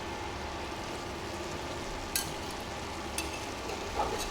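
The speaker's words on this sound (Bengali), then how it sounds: "দেখুন এখানে আমি পেঁপে আর আলু কুচিয়ে ভাজি বসিয়েছি তা একটু তেল দিয়ে আর একটু সর্ষে ফোড়ন দিয়ে" Papaya and potato pieces frying in a little oil with mustard seeds on an induction cooker, a steady soft sizzle with a few light stirring clicks and brief spatter bursts, no talking.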